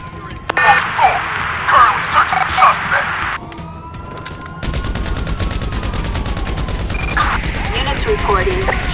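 Rapid bursts of gunfire crackle in a video game police shootout, loud and repeated over several seconds, with a dog barking and other game sounds around them.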